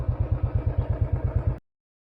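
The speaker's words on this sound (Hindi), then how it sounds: "Riding sound of royal Enfield classic 500।" Royal Enfield Classic 500 motorcycle being ridden, its single-cylinder engine thumping in a fast, even pulse, loud and close, then cutting off abruptly.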